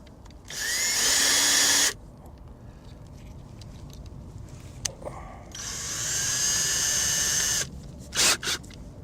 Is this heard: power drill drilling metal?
yes